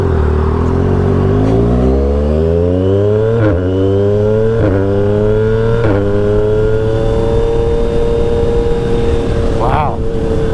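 Yamaha XSR 900 motorcycle engine revving up through gears during a ride, rising pitch with quick, sharp shift breaks, loud and close, then a brief squeal near the end.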